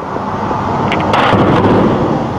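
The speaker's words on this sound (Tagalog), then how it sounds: "Umalingaw ang putukan." Gunfire during a violent crackdown on protesters in Syria, a dense, rolling burst of shots and booms over steady crowd and street noise, loud and sustained with a cluster of sharper reports in the middle.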